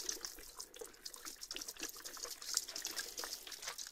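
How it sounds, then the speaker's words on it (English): Water sprinkles quietly onto worm bedding of backyard grass with zeolite powder and dolomite in a bucket, a soft close patter of drops and trickles. "and then give it a little sprinkle of water."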